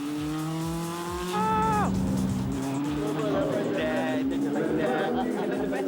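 Race car lapping a circuit at speed, with a loud engine note rising through the gears, a sharp drop on a shift, then building again in a steady rhythmic pulse close to the listener.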